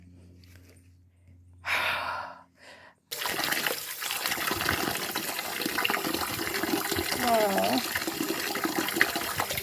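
Running water pours steadily over freshly gathered wild fruit being washed outdoors, a close continuous splashing rush after a brief spoken exclamation and a short quiet pause.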